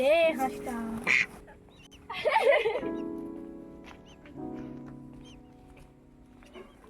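A duck quacks a few times in short, nasal bursts near the start, with a voice speaking, then a low steady drone remains.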